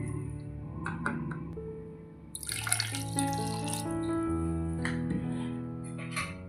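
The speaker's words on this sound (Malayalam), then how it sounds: "ഇനി ഇതിലേക്ക് നികക്കെ വെള്ളം ഒഴിച്ച് കൊടുക്കാം." Water poured into a vellayappam batter mixture in a kitchen, a steady running splash with some gurgling that continues across the clip over soft background music.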